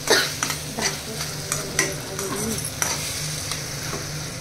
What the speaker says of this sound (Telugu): సో సాస్ వేసుకొని మిక్స్ చేసుకోవాలి.